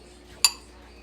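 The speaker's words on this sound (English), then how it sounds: "I'm just gonna use a spoon." A metal spoon gives a single sharp clink against a dish of fruit salad, a brief close tap in an otherwise quiet room.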